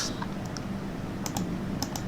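Computer keyboard typing while working in Blender 2.8, a few quick clustered keystrokes at close range over a low steady room hum, with no talking.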